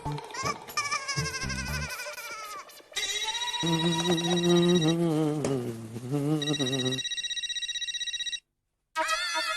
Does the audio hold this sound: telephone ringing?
yes